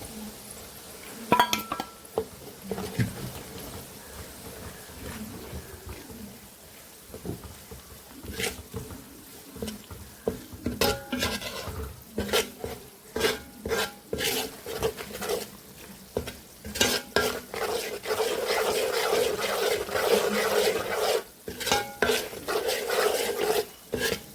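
Chili powder being stirred into sautéed garlic in a pan, with close clinks and scrapes of a utensil against the metal over a soft sizzle, the strokes growing busier and denser toward the end, no talking.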